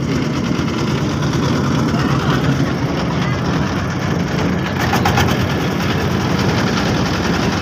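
A trawler boat engine running at a steady, loud low rumble throughout, idling evenly with no pauses.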